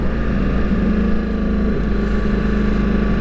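A Ducati motorcycle on an evening ride holds a steady, close engine drone with constant wind rush, loud and continuous with no talk.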